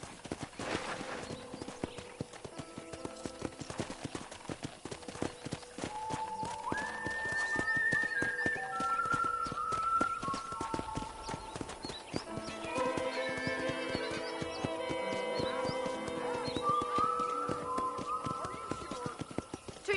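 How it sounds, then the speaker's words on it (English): Hooves clip-clop in a steady trotting rhythm throughout on a ranch in a video game, with a horse whinnying partway through over a soft background of music-like tones. "let's see if you can still ride a horse"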